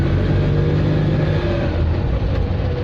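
An Invacar invalid carriage's small engine drones steadily and loudly while driving on the road, a constant close mechanical hum with no speech.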